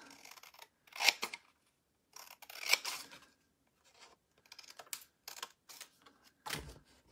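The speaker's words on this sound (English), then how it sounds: "I'm going to go big scissors." Large scissors snip through paper in a series of separate crisp cuts, each a brief rasping slice, with quiet gaps between them.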